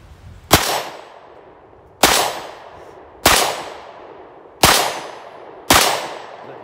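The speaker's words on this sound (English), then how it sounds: "So we got Eric loaded up the Ruger-57" Five sharp, loud shots from a Ruger-57 pistol fired at an outdoor range toward a 25-yard target, spaced about a second apart, each a hard crack with a ringing decay and no talk between them.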